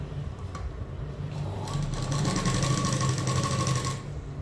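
A sewing machine stitches a prince cut blouse in a continuous rapid run that speeds up and grows louder partway through, then stops abruptly near the end.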